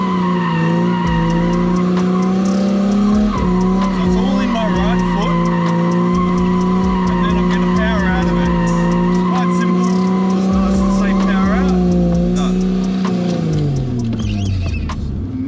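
A car doing donuts keeps up a loud, continuous squeal of skidding tires over steady engine noise, with the pitch wavering through the spin and dropping as it slows near the end.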